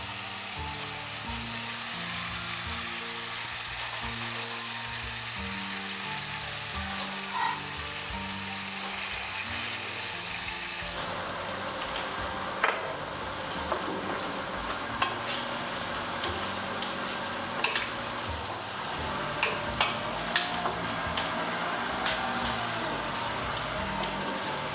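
Pieces of margoz (bitter gourd) fry in a pan in a continuous dense sizzle that lasts throughout, with occasional small pops and crackles, close and steady, and the tone shifts slightly partway through.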